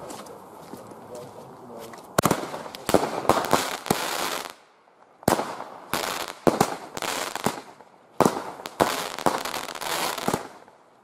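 A 16-shot consumer firework battery fires outdoors, sharp cracking bangs arriving in three rapid volleys with brief pauses between them, loud and fairly close, with faint background bird cooing.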